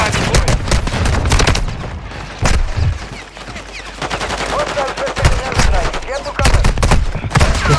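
Dense gunfire from Call of Duty: Warzone 2.0 on the Vondel map roars almost without pause: rapid automatic bursts layered over loud close shots and booming impacts, dipping briefly midway before surging again.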